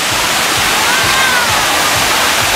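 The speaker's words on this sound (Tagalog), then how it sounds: "Doon po bumabagsak yung tubig." Twin Falls in Kalayaan, Laguna, water pouring steadily over the falls into a pool, a loud, dense, unbroken rushing roar close by, with no voices.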